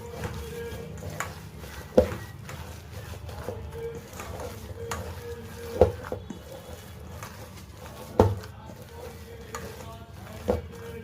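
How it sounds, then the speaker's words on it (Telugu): Minapa vada batter is stirred with cumin in a bowl, making soft wet squishing and stirring sounds with a few sharp knocks of the utensil against the bowl, close and unhurried. "జీలకర్ర, వీటిని బాగా మిక్స్ చేసుకుందాం."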